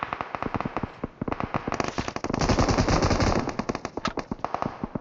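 Rapid automatic gunfire from the PUBG Mobile battle royale game, dense bursts of close shots running nearly continuously through the clip with a heavier stretch in the middle.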